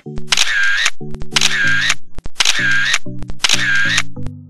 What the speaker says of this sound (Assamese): কেমেৰাৰ মাত্ৰ এটা ক্লিক